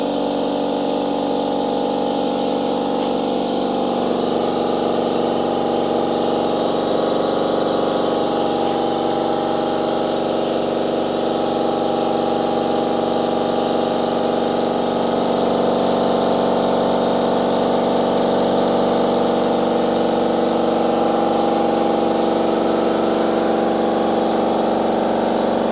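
A Chicago Air Hush 150 air compressor runs continuously as it builds pressure, giving a steady, fairly loud motor hum and pumping drone that holds throughout with little variation.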